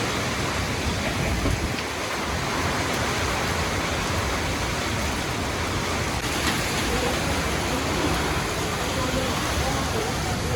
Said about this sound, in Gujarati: ઓહો પવન વાવાઝોડું ઉપડું છે અને વરસાદ એવો છે